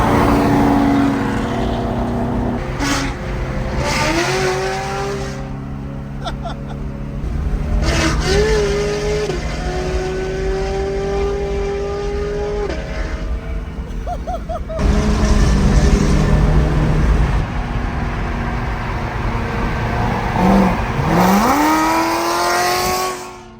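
An Infiniti G35 with a VQ35DE V6 drives along the road, its engine droning and rising in pitch through several strong accelerations, loud and close, with wind and road noise between pulls.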